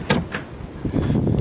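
A newly installed door on an 8x12 backyard shed is opened, giving two quick knocks followed by a longer low rattling scrape, close and fairly loud.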